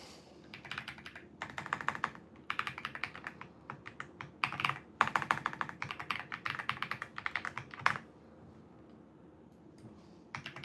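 Bursts of fast typing on a thocky mechanical computer keyboard, close and crisp, with clustered keystrokes separated by short pauses and a louder stroke near the end.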